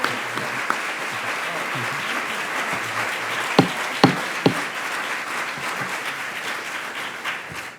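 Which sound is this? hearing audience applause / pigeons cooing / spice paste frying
hearing audience applause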